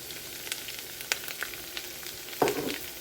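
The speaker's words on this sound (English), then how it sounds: "Definitely starting to simmer, so we'll go ahead and add the onion." Onion going into hot oil for a chicken pesto lasagna, a faint hiss dotted with scattered crackles and a brief louder sputter near the end, with no talking.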